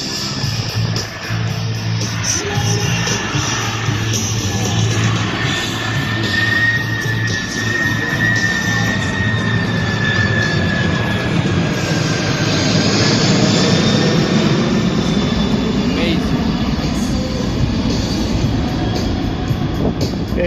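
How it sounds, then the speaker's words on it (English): A C-5M Super Galaxy military transport flying slowly past at the Dover Air Show 2024: a loud, continuous jet engine roar with a rising and falling whine, steady and close throughout. "Here you go, ladies and gentlemen, slow flight. The C-5M Super Galaxy."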